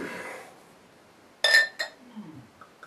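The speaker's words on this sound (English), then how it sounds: "I'm going to pour it on the outside here" Shooting Creek pumpkin ale is poured from a bottle into a glass: a soft fizzy rush, then a sharp close clink of glass, a second lighter knock and faint breathing.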